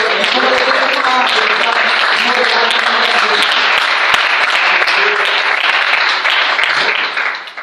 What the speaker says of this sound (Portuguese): dar um aplauso bem forte para o Senhor